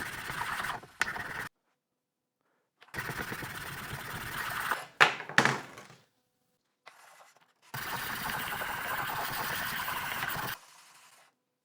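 A knife blade scrapes in rough, rasping strokes across the coarse side of a hockey puck-shaped whetstone, several bursts of grinding separated by short pauses and ending with a longer steady pass.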